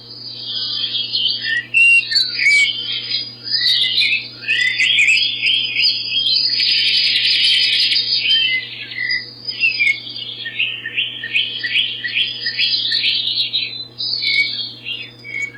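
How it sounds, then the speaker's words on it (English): A model railway layout's ambient sound module plays recorded birdsong, a busy run of chirps, trills and squawks repeating over a low steady hum, with no speech. "And this is the bird sounds."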